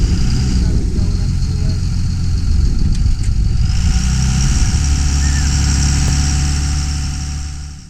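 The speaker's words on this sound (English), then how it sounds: "You do get on a dune buggy that's several," A dune buggy engine idles with a steady, loud low rumble through the whole stretch, with people talking over it and a faint hiss of wind.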